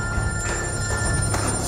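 A telephone rings loud and close in a short electronic burst, with no talk over it.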